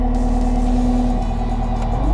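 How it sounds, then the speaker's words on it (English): The diesel engine of a Caterpillar machine fitted with a landscape tiller attachment runs at high idle, a loud, steady, close rumble with a constant low hum throughout. "Throttle the machine up to high idle."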